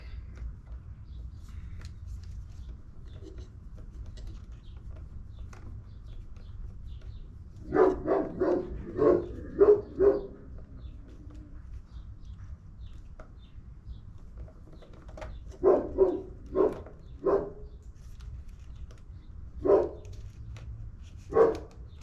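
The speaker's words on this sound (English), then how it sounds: "Sorry about the dog barking." A dog barks in two separate bursts of several sharp barks each, fairly close, with a few single barks after, over low background rumble.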